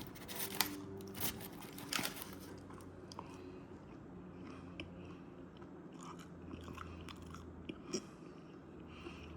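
Chewing and biting into freshly baked, still-hot homemade yeast bread, with soft crunchy bites close up, strongest in the first few seconds and then fainter irregular chewing.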